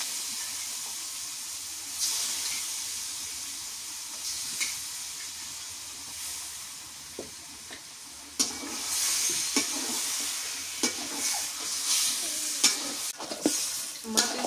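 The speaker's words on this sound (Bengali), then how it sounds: "মশলা কষানো হয়ে গেছে, এবার এই মাংস দিয়ে দিই।" Pieces of beef with bone and fat hit a pan of fried spice paste on a clay stove and sizzle loudly and steadily, with the spoon stirring and scraping throughout.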